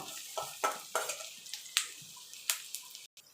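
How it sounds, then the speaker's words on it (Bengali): Dried chili, garlic and onion are fried in oil, heard as a series of quiet spatula scrapes and clinks against the pan over a faint sizzle. "এখানে আমি তেল দিয়ে তার মধ্যে শুকনো লঙ্কা রসুন আর পেঁয়াজ দিয়ে ভাজা ভাজা করে নেব।"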